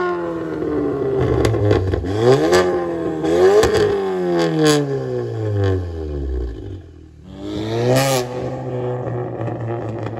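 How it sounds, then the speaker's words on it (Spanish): An Audi S3 stage 2 car engine of about 400 horsepower revs hard several times, climbing and dropping in pitch with throaty bursts, close and loud, then settles to an idle rumble. "déjame yo enseñarte cómo el carro suena"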